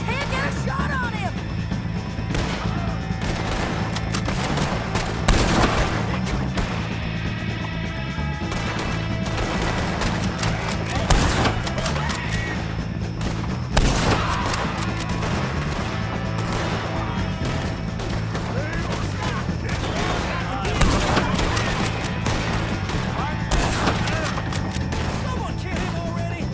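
Gunfire in the video game Red Dead Redemption 2 comes as a string of sharp, loud reports spaced a few seconds apart over a busy backdrop of game sound, with voices shouting throughout.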